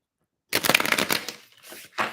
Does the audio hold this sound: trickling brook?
no